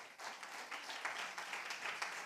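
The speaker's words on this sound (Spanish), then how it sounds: "Vamos a darle aplauso al Señor." A Spanish-speaking church congregation applauds, a short burst of close, brisk clapping with uneven swells in loudness.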